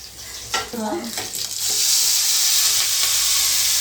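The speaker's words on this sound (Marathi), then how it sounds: "तेल जिरे लसूण नंतर फ्राय करून घेतो" Cumin and garlic hit hot oil, a short tonal clatter at first giving way to a loud, steady sizzling hiss that fills the rest of the moment up close.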